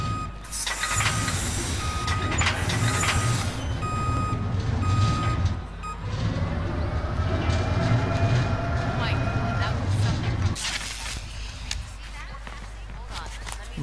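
A car in the video game Watch Dogs 2 starts up and drives off with a steady engine drone and rising whine, interrupted by game beeps and clatter while someone talks over it.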